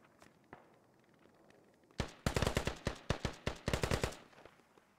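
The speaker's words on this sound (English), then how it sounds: "Chicago Ted putting some pretty effective fire on." Automatic gunfire in the military video game Squad, with a faint shot or two followed by a loud rapid volley of close, sharp rounds in bursts lasting about two seconds, then silence.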